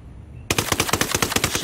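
Automatic rifle fire in the video game Ghost Recon Wildlands cuts in sharply after a brief quiet moment, then runs as a loud, rapid, close burst of evenly spaced shots.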